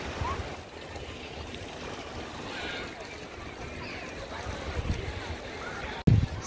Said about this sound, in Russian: Поднялся небольшой ветерок, волна чуть усилилась.